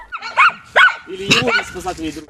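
Dogs bark in short yelping bursts at a closed rescue station on a central beach by the Tiasmyn River, close and loud, several quick barks with some whining tones.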